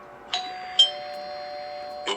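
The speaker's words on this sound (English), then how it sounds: "I heard the doorbell ringing" A doorbell chimes in a quiet house, three separate ding tones with lingering ring between them, clear and fairly close.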